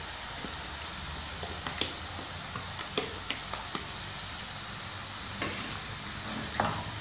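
Zucchini sautéing in a pan with tomato sauce added, a soft steady sizzle under occasional spoon scrapes and taps as it is stirred, no voices.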